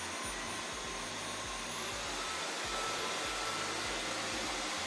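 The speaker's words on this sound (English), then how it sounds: "you can hear it in the motor when the suction power changes" Motor of a Dyson V12 Detect Slim cordless vacuum running steadily, a loud even whine and rush of air whose pitch shifts upward partway through as suction power changes.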